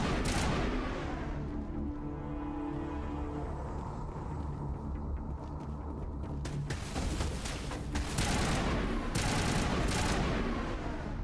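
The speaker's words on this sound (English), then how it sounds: "the gun sounds are a little bit too loud" Gunfire from the video game Mass Effect Legendary Edition, a loud, sustained stretch of shots and bursts over a rumbling game soundscape, growing denser and sharper toward the end.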